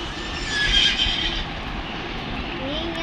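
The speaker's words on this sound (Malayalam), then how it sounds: "നീ ഇങ്ങനെ സൗണ്ട് ഉണ്ടാക്കണമെന്നില്ല കുതിരക്കുട്ടി" A horse neighs in a Roblox dungeon obby game. A brief, shrill whinny rises early on over a steady hum of game sound and background chatter.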